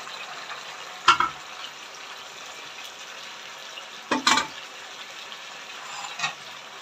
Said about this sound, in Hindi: अब हम इसको खूब भुनेंगे,